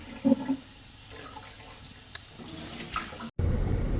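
Water runs from a tap into a basin with faint clatter, then a louder rushing gush of water starts near the end.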